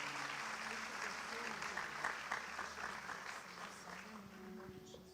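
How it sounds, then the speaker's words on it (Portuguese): A church congregation applauding during a family worship service, sustained clapping at moderate distance with faint voices and a low sustained tone beneath it, easing off slightly near the end. "Aplauda o Senhor Jesus pela vida dela."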